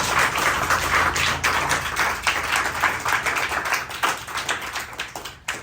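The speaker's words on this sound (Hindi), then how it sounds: "एक बार फिर से जोरदार तालियां बजाएं।" Enthusiastic applause from a crowd at a Teacher's Day celebration at an institute of technology in Nagri, dense clapping that stays strong for several seconds and then gradually thins out.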